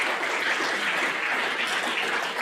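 Steady crowd clapping fills a short stretch at an eighth grade awards program, dense and even with no talking on top.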